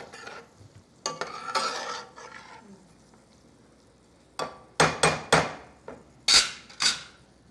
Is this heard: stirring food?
yes